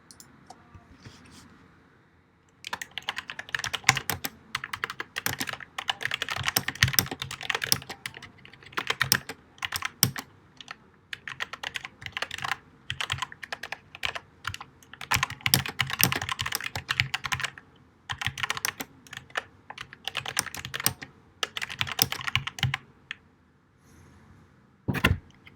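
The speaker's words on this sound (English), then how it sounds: "Typing something." Close, crisp clatter of typing on a computer keyboard in irregular bursts of keystrokes with short pauses between, starting after a quiet opening and dropping off near the end.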